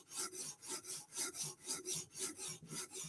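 A MicroTech Stitch knife blade being sharpened on UKSG stones, a steady rhythmic rasp of steel stroking back and forth across the stone about three times per second, close and quiet with no talking.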